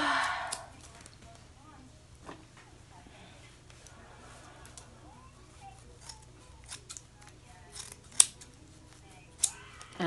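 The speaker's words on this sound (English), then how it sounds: "Chop chop, snip snip, down and trim." Scissors snip crochet locs hair in a quiet room with a low hum underneath. Scattered sharp cuts come at irregular intervals, and a few of them are louder and closer.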